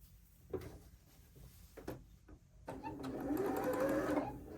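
A sewing machine stitching a quilt block starts after a few handling clicks and knocks, then runs in a steady close whir for about two seconds.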